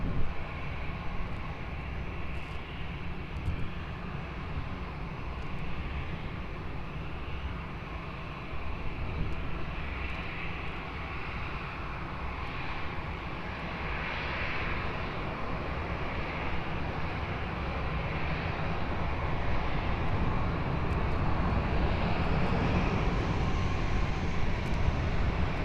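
An airplane at Lisbon Airport, holding for a runway 20 departure, produces a steady, broad engine roar that swells slightly toward the end, distant and continuous with no voices.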